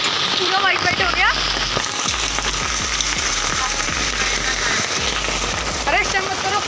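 Rain and hail beat down hard on surfaces, a dense, loud, continuous patter with sharper ticks of hailstones, while voices talk briefly over it.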